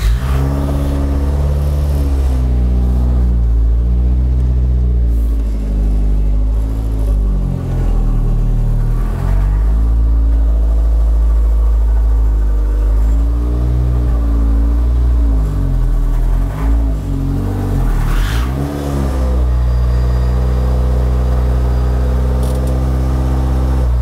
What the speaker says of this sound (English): I'm going to drive the car into the garage and leave it in there so that lacquer dries properly.